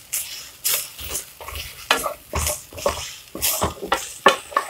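Grated coconut stirred and fried in a pan for a sweet wheat somas filling: a quick series of scraping, clattering stirring strokes with faint sizzling, close and alone.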